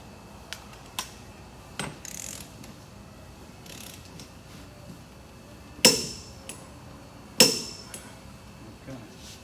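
A wrench clicks as it torques the rear wheel bearing nut on a 2001-2005 Honda Civic, with a few light metallic taps followed by two sharp, loud clicks spaced apart, close by.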